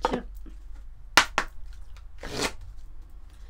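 Alliance Galactique oracle cards are shuffled and handled close up in a few quick papery riffles and slaps, with short pauses between bursts and no talk.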